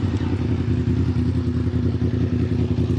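A very loud Yamaha MT10 motorcycle exhaust rumbles steadily up close, a dense, throbbing engine drone with no voices over it.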